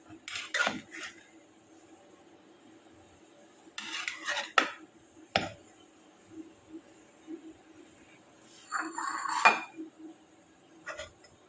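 Beef biryani is served onto a plate with a metal spoon, giving soft scattered clinks and scrapes of cutlery against the pot and dish, a few sharper knocks among quiet gaps.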